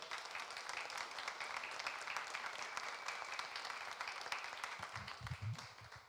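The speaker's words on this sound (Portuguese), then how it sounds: "Levanta o aplauso de agradecimento a Deus." A congregation at a church service applauds in thanksgiving, a steady wash of many hands clapping for several seconds, heard faint and distant, with a brief low voice near the end.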